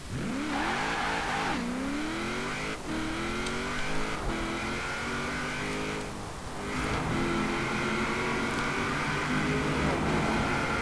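A lightweight rear-wheel-drive sports car with a heavily boosted engine revs and accelerates hard, pitch climbing through repeated gear shifts, loud and close, with a brief tire squeal mixed in and no talk.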